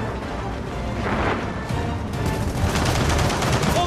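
Turret gunfire in the video game Gears of War 4, dense rapid bursts of automatic fire rattling continuously and loudly throughout amid battle noise.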